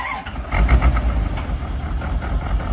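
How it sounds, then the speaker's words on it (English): A 1994 Corvette engine with a stuck fuel injector runs rough and uneven with sputtering pulses at close range; no one speaks. "this thing's got a stuck injector. It's blowing fuel."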